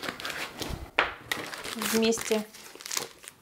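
Plastic bag crinkling and rustling as it is straightened and handled while preparing cream for piping, close crackly bursts interspersed with someone talking.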